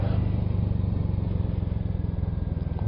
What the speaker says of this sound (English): I'll leave my visor open a little bit so you can hear maybe some of the engine.